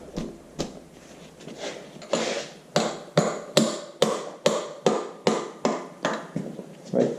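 Rhythmic metallic clicks of a 5/8 inch wrench ratcheting on oil pump bolts of a Farmall Super MTA tractor engine, about a dozen sharp, evenly spaced taps, close and clear.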